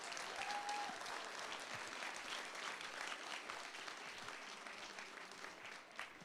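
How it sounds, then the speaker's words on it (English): Steady, sustained audience applause fills a FIRST robotics qualifier event in New Haven, honoring the event volunteers, with a dense clapping crowd from start to finish and no voices on top. "So could I get a round of applause for them?"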